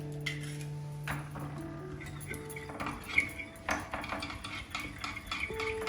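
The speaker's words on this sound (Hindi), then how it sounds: "अब इसमें ये एग जाएगा, ये मीडियम साइज का है। इसको भी साथ हम मिक्स कर लेंगे।" A medium egg is mixed into chocolate muffin batter. A utensil clinks and scrapes against the bowl in a quiet, close, irregular rhythm with a few light pings. No one speaks.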